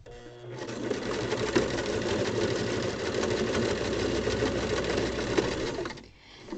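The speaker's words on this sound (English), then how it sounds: "it's just the sound of your machine having to work through all of the layers." A sewing machine stitches steadily through several layers of fabric, a close, continuous rapid whirring hum that runs for about five seconds and then stops.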